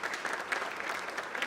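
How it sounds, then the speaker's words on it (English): Audience applause at an event with a novelty orchestra, a steady wash of many hands clapping at moderate level with no voices over it. "So please give yourselves a round of applause."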